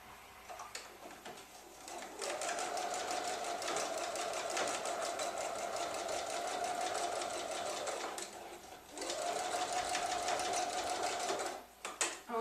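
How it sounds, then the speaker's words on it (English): A sewing machine runs a straight stitch, fastening knit sport elastic onto a waistband, in two long steady close bursts of motor whir and needle clatter separated by a brief pause, with no talking. "I'm just going to sew it in place so that it doesn't shift while I'm sewing it to the rest of the waistband."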